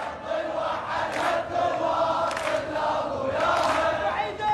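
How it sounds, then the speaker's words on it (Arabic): Students from Babil province chant slogans together at a protest sit-in square in Iraq, a loud crowd of voices rising and falling in rhythmic waves that continue steadily throughout. "جانب من هتافات طلبة محافظة بابل داخل ساحة اعتصام مجسر الثورة خلال تظاهراتهم"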